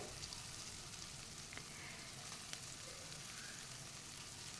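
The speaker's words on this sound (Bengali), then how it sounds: "তেল যখন ধোয়া ওঠার মতো গরম হয়ে যাবে তখন এখানে দিয়ে দিচ্ছি দুইটি পেঁয়াজ কুচি চার থেকে পাঁচটি কাঁচামরিচ কুচি" Chopped onion and green chillies fry in smoking-hot oil, giving a faint, steady, even hiss of sizzling with no distinct stirring strokes.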